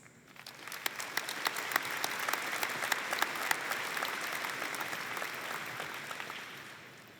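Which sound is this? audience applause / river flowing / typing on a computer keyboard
audience applause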